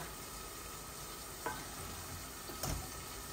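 Diced potatoes, two medium ones cut into cubes, frying softly in a pan for a fish curry, a low steady sizzle with a couple of brief stirring scrapes, no talking.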